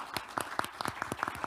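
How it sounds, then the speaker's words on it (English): Scattered, distinct hand claps ring out as an audience welcomes session panelists at a climate resilience forum, with individual claps close and clearly separated rather than a dense wash. "Let's warmly welcome them with a big round of applause"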